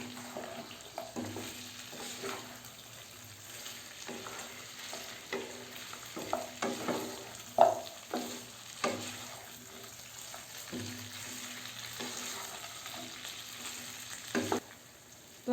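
Beef kala bhuna being stirred in a frying pan, a steady low sizzle with repeated scraping knocks of the spoon against the pan, fairly close and continuous, with no voices.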